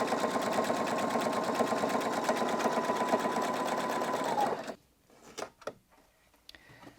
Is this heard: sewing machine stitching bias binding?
yes